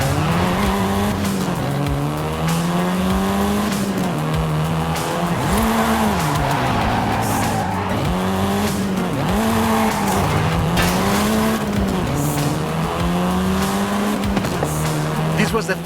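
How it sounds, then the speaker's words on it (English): A seventh-generation Volkswagen Golf R is driven hard in the racing video game Forza Horizon 5. The engine note rises and falls through repeated gear changes, with tire squeal over a loud, continuous drone. "This version is the Volkswagen Golf R,"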